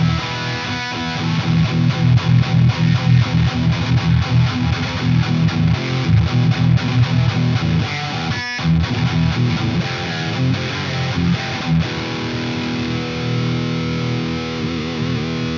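An electric guitar played through an EVH 5150III Hypersonic amp with the resonance cranked gives heavy, distorted, loud riffing with chugging rhythms and sustained chords, alone and continuous, with a brief break midway.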